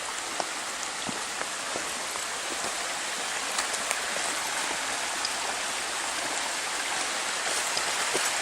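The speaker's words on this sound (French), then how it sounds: "Je vais maintenant vous montrer la rivière qui coule en sens inverse." A river rushes in a steady, dense broadband wash with faint splashes and droplets throughout, loud and continuous with no voices.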